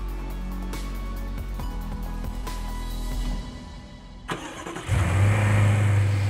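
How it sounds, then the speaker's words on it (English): A BMW X6 xDrive 50i petrol engine runs with a steady low hum and drone, then a sharp blip and a louder, deeper rev near the end, with no talk over it. "You are listening to the pinnacle of the all-new BMW X6's petrol engine range, the xDrive 50i"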